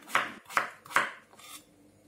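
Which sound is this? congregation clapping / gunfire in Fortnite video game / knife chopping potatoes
knife chopping potatoes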